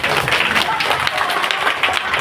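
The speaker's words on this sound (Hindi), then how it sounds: "अब आप ताली बजा दिए" A crowd applauds at a political speech in India, a continuous, loud wash of clapping with a voice talking over it.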